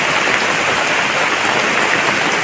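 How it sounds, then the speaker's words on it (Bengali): Heavy monsoon rain drums on a thatched hut, a dense steady hiss of drops close by and unbroken, with no voices. "এখানে এত জোরে পড়ে কেন বৃষ্টি"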